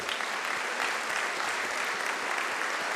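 Steady, dense applause fills a concert hall after a school orchestra and choir performance by music school students, former students and teachers, loud and continuous throughout with no talking.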